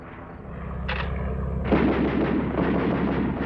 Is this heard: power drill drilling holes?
no